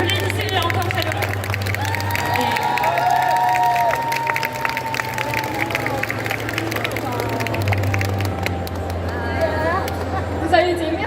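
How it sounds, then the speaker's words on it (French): Audience at a Japan Expo Ace Attorney panel applauds and cheers amid loud crowd chatter and hubbub, with a steady low hum underneath and a presenter's voice carrying over the noise throughout. "Applaudissez encore chaleureusement"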